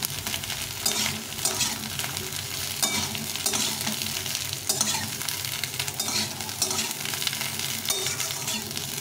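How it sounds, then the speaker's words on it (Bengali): Eggplant pieces fry in a pan with no water, a dense continuous sizzle broken by frequent close scraping and stirring strokes, with no voices. "বেগুনটাকে ভেজে নেব।"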